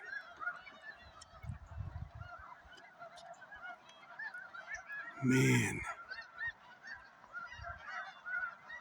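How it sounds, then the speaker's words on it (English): A large flock of snow geese honks continuously in the distance at a wildlife refuge, with one loud, close honk standing out midway and someone briefly speaking. "Look at all the snow geese."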